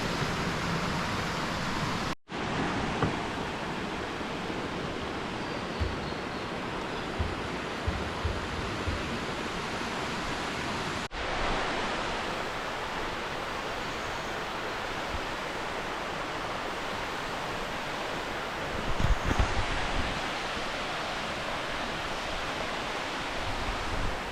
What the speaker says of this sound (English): we're almost to the waterfall